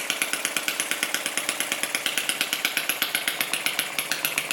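A Retrol and Okmo Lister D model engine, new from the box, runs steadily at low RPM with a rapid, even chugging beat and a loud mechanical clatter throughout.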